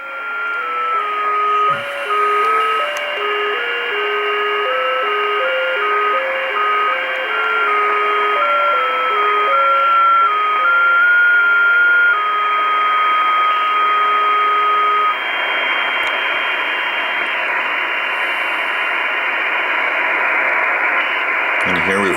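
JT65 amateur radio digital mode transmission: a steady, continuous sequence of pure tones stepping up and down in pitch, loud and unbroken over a faint background hiss for about twenty seconds.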